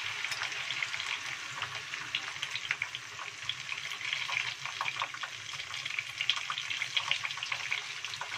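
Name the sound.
frying stuffed tofu in oil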